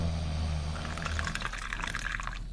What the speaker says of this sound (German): Bleiche. Gießen.